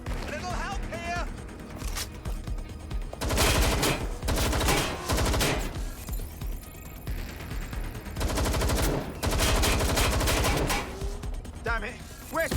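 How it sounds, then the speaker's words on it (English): Heavy gunfire in the video game Watch Dogs Legion: repeated loud bursts of automatic and single shots crackling close, broken by brief lulls and a few whooshing effects. "Gunfire!"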